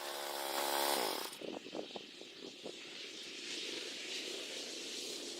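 A chainsaw mill ripping logs into 2x6 boards, a steady loud buzzing whine that drops off briefly with a few knocks before the saw runs on again at a lower, even drone.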